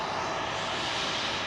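Two classic jet airliners at Heathrow's runway 27L send out a brief, steady engine roar, a dense hiss-laden rumble heard alone at moderate distance.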